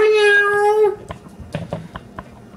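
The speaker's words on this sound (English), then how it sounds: "Oh, I hear the kitty." A cat gives one long, clear meow in a kitchen, followed by quiet clinks and taps of utensils while a tuna sandwich is prepared.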